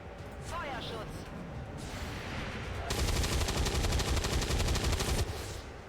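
Gunshots fired in a modded XCOM 2 game, a loud rapid rattling burst of automatic fire in the second half, over background game noise and a voice talking earlier.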